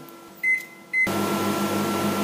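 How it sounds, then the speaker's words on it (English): A microwave oven heating bread: a couple of short beeps, then a door shutting and a steady electric hum with a faint rhythmic whirr from the turntable, close and continuous. "I'm gonna teach you guys how to microwave this bread."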